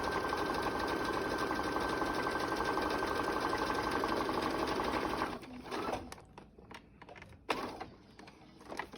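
A sewing machine runs steadily, loud and close, stitching a fabric face mask for about five seconds, then stops. Faint handling noises and small clunks follow in a quieter room.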